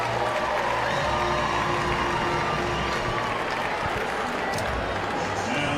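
Baseball crowd at an Auburn vs LSU game roars and cheers after Tommy White's home run, a dense, sustained wall of applause and shouting that stays loud throughout.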